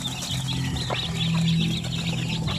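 Mother hen clucking while raising her chicks, a steady run of low, soft clucks close by with faint chirping from the young birds around her.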